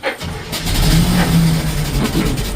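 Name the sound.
farm machine engine running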